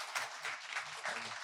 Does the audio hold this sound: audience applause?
yes